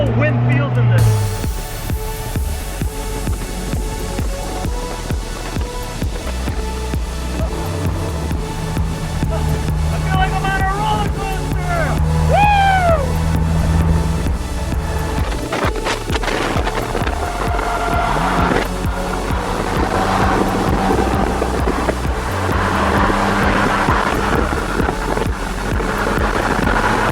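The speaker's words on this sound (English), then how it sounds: "we're about to go on the highway here. Really going to get an idea of how the whole wind feels in this." A 2017 Polaris Slingshot three-wheeler cruises on a highway, with constant loud wind rush buffeting the microphone over road and engine drone, and a voice talks intermittently through it.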